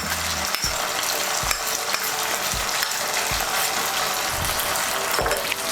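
A ground paste of whole cumin, coriander seeds, tomato, garlic, ginger and green chilli frying in a pan, with a dense continuous sizzle broken by regular scraping strokes of a spatula, close and loud, no talking.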